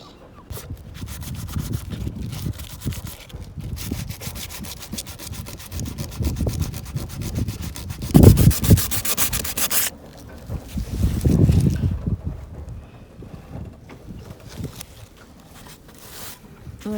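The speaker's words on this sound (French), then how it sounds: "il faut poncer tout le tour pour plus qu'il reste du tout de blanc" Fiberglass on a boat is sanded to strip off a white surface layer, giving a continuous close rasping scrub that swells and fades, with a harsher, louder stretch midway.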